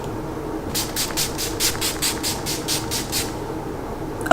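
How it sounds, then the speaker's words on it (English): Gerard Cosmetics Slay All Day cucumber setting spray is pumped onto a face in about a dozen quick, evenly spaced hissing bursts, close and clear, with no talking. "I'm going to set my face with Gerard Cosmetics Slay All Day Setting Spray in the scent Cucumber."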